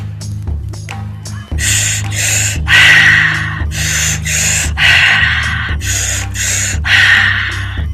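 Fast, forceful breathwork breathing, rapid loud inhales and exhales in a steady, driving rhythm, very close to the microphone.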